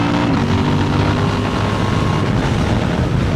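A Honda Transalp motorcycle accelerates hard with a quickshifter at 5,000 RPM, a loud continuous engine roar heavily buffeted by wind noise for the whole stretch, without speech.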